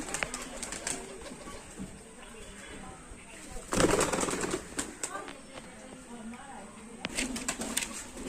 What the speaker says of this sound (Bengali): এখানে দুটো পায়রা আছে